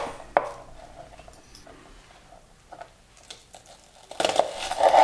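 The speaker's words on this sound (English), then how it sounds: "First, cut the onion into quarters." A knife cuts an onion into quarters on a board for burgers, with a sharp single chop early, a few softer taps and scrapes, then a louder, busier burst of cutting at the end.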